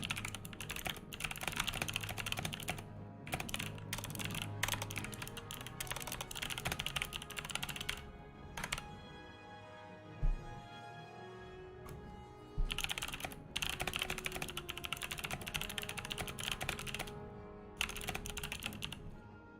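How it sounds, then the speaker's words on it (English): Keys clatter on a computer keyboard in quick, uneven bursts, close and crisp, with short pauses between runs of typing and no talking over it. "The keyboard's good ASMR."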